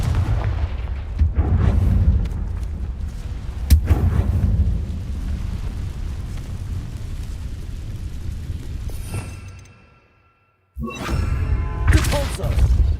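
Confringo fire spells blasting in the Hogwarts Legacy video game, loud booming explosions with crackling debris, several sharp impacts, a brief silent gap, then another burst of blasts.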